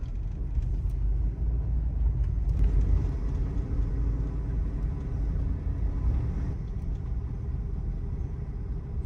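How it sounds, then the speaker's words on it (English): Chevrolet Tahoe with a freshly installed 3/5 lowering drop and a misaligned steering wheel, driven slowly around a corner: steady low engine and road rumble close up, fairly even throughout, with no talking. "Let's take it around the corner to see how it drives and also if it settles."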